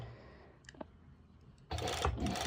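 Serger sewing machine joining two fabric pieces, a faint click or two followed by a sudden loud, rapid whirring run at the end.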